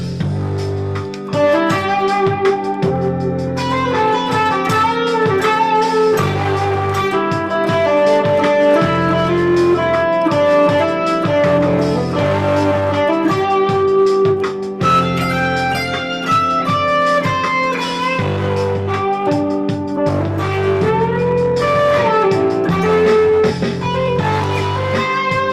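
Electric guitar playing lines that combine Mixolydian and pentatonic scales over a steady full-band backing, with continuous melodic runs throughout at a loud, even level.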